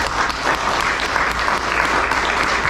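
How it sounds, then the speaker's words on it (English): An audience at a live evening presentation breaks into full, steady applause, dense clapping that holds at a constant level throughout, with no talk on top. "So let's give a round of applause."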